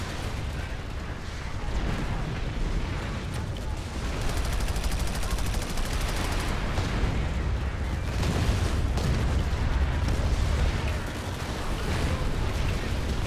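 Heavy Mauler cannon fire in Planetside 2 booms continuously, dense rumbling blasts and crackling impacts layered together at a loud, sustained level.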